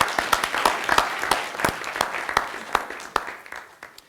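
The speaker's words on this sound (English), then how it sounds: "Could you give a round of applause to all the speakers?" Applause from a conference audience for the session's speakers, a moderate crowd of scattered individual claps near and far, with distinct sharp hand claps standing out over the dense patter before it thins toward the end.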